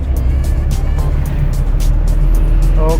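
A 1984 Suzuki Jimny on the move, with a steady low engine rumble and road noise and wind from an open window, plus a few small clicks and rattles inside the cabin.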